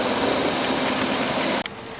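A 2005 Dodge Caravan's Chrysler 3.8 engine with a multiple-cylinder misfire running with a loud, dense, rough drone that cuts off sharply near the end, followed by a quieter, steadier hum.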